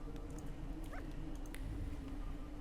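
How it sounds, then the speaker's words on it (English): Short high whimpering whine from a dog in the video game The Thaumaturge, a single brief plaintive cry over a steady game ambience drone. "I can pet the dog!"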